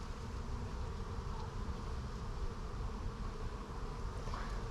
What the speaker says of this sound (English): The bees are literally moving out of my way as I go.